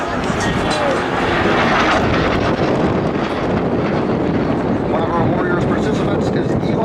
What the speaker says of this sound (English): From the left, Crunchy in a 4-point roll.